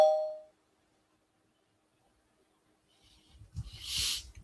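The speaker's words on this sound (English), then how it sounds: "Maybe if I ring the bell," A single bell struck once, ringing out clearly and fading within half a second, followed after a pause by a burst of loud, noisy rumbling and hiss.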